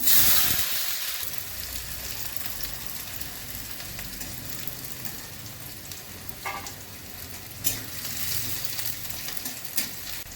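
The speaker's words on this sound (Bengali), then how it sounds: "এখন অল্প ফোড়ন করছি পেঁয়াজ দিয়ে দিচ্ছি" Onions hit hot oil tempered with black cumin, a steady frying sizzle and hiss with occasional stirring clinks and pops, close and continuous with no talking.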